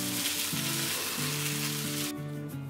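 Fresh sausages sizzle steadily in hot oil in a frying pan, a loud constant crackle with no talking.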